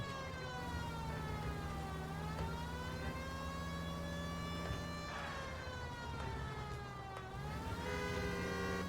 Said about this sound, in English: let's use a siren on this one.